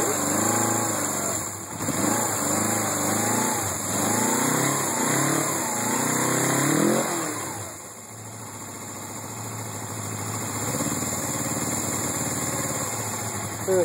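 A 1980 Suzuki GS450 S motorcycle engine idling after a cold start, a steady close rumble with throttle blips and a drop toward a lower, rougher idle partway through.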